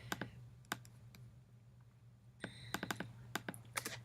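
Clicky computer keyboard typing in two bursts, a few scattered keystrokes early then a quicker run of sharp taps toward the end, close and fairly quiet over a steady low hum.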